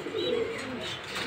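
Black Danish pigeons cooing softly, a brief low rolling coo with a faint chirp over a hissy background, no talking.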